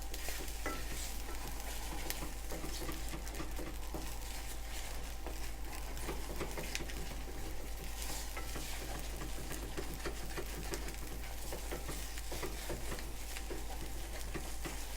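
Food being stirred quickly and constantly in a hot pan, a steady dense sizzle of frying with frequent scraping and clicking strokes of the utensil, continuous and close throughout.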